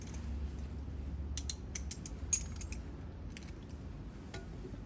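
A 3/8 inch torque wrench ratchets in short bursts of crisp clicks while tightening bolts on a Cadillac CT4/CT5 V Blackwing steering wheel install, over a low steady background hum.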